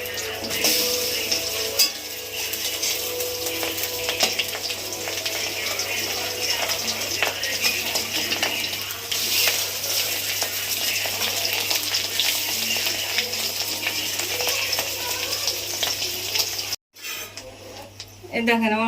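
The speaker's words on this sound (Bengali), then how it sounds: "এই দেখেন আমার বড়া ভাজা হয়ে গেছে, তুলে নিচ্ছি।" Fish roe fritters sizzle steadily in a hot pan, loud and close, with occasional clinks of a utensil against the pan and a brief dropout near the end.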